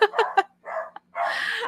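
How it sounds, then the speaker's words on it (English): A pet dog barks indoors in a quick cluster of three sharp yaps, then a whiny bark and a longer drawn-out yelping howl, fairly close in a quiet room. "that's my dog."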